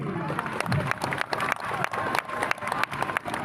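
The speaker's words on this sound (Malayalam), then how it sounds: "ഇപ്പോൾ വേണം കൈയടിക്കുക" Crowd applause at the inauguration of a cultural evening, a dense, steady clapping from many hands close by with faint voices mixed in.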